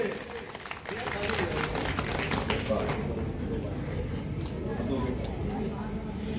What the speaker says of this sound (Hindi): एक बार जोरदार ताली बजाकर आपका स्वागत करें